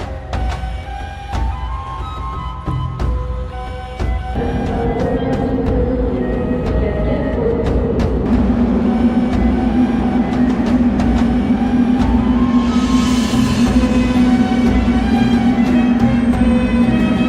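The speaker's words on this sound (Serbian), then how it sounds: "Opet se vraćam u metro" A Tashkent metro train rumbles and rattles along the tracks, the steady roar rising after a few seconds into a loud, sustained hum with a whining tone.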